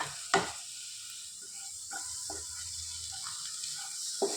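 Chopped tomatoes tipped into a hot frying pan of onions for paneer bhurji, giving a soft stirring, sizzling frying sound with a sharp clatter near the start and another at the end, without any talk.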